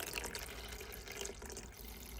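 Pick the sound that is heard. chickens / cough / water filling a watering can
water filling a watering can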